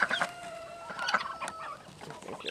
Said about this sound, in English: Because I think they all cackle.